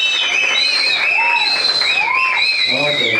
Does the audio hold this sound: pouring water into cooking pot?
no